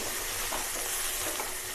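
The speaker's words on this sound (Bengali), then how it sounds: "নাড়াচাড়া দিয়ে আলু বেগুনটা ভেজে ভেজে ভাজা মতন করে নেব" Diced potatoes and eggplant fry in an oiled pan for a spinach and chickpea-greens vegetable dish, a steady low sizzle with soft scraping stirs, close and continuous with no talk.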